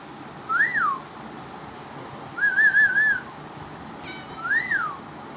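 Cat meowing three times with gaps between, rising and falling wavering calls that sound almost whistle-like, close and clear over a quiet hiss of room noise.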